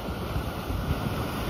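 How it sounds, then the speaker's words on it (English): Ocean waves break into white water along a rocky intertidal coastline, a dense continuous roar of surf mixed with strong wind rushing over the microphone. "these waves are breaking all this white water"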